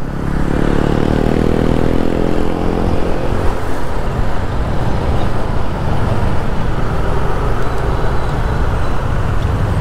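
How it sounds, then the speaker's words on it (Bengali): A Honda CBR with a four-valve engine runs steadily on the road, a loud, continuous rumble that rises slightly in pitch early on, blended with surrounding traffic noise and no talking. "কত আগের Honda CBR torch engine with 4 valve"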